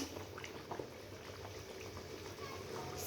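Vegetable curry bubbling steadily in a covered pot, a soft continuous simmer with faint liquid pops, quiet and close, no talking.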